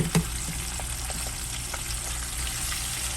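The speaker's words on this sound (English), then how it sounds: "I'm gonna put some chopped onions in there." Chopped onions crackle in hot grease, added to a pot of deep-frying mustard-coated chicken wings, a steady close sizzle with a small clatter at the start and no talking.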